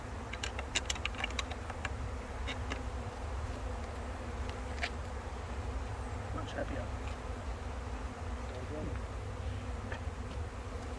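A steady, dense hum of many honeybees buzzing close around a hive, with scattered clicks and brief quiet speech underneath.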